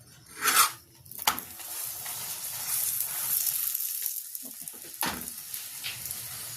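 Cauliflower paratha cooking in oil on a hot griddle gives a moderate sizzle, with clattering knocks of a utensil at the start and a sharp scrape later on.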